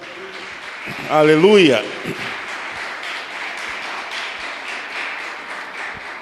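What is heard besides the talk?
congregation applauding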